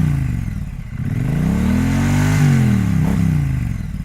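A stock-exhaust Triumph Speed Triple motorcycle, a 2021 model, revs up close and loud, its engine note swelling and climbing in pitch through the middle before easing back, heard alone without talk.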